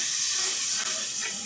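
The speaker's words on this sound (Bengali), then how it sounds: "অল্প পরিমাণে পানি দিয়ে দিব" Water poured onto hot frying spices makes a loud, steady hiss of steam that barely wavers through the short burst.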